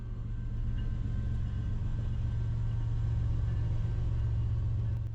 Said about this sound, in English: There's the train. It looks like a big one too.